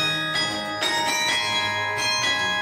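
Carillon bells ring in a melodic sequence, with several struck bell tones in succession and their long overlapping resonance sustained throughout, heard clearly with no voices.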